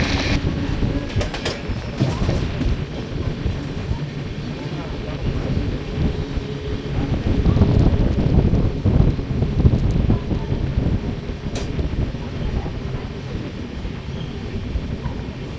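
An Indian Railways Korba–Tirunelveli superfast express pulls out of Chirala station, heard as a steady low rumble and rattle of the moving train with wind noise, continuous throughout.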